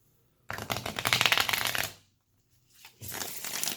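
A slick, slippery Witch's Tarot deck is shuffled by hand in two quick bursts, a crisp riffling flutter up close, then a pause and a second shorter shuffle, with no voices over it.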